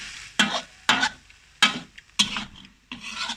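Silkworm pupae being dry-roasted in a pan over a gas flame and stirred, with five loud rasping scrapes at uneven intervals, close up, each trailing into a soft crackling sizzle, no voices.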